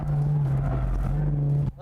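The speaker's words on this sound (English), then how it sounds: "You have to keep revving it within the torque band." A car engine holds a high, strained revving drone close by while drifting, for under two seconds, then cuts off abruptly.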